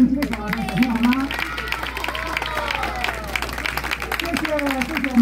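Audience applause after a children's performance at an elementary school night festival, scattered clapping and crowd noise under loud, continuous speech from a speaker on stage.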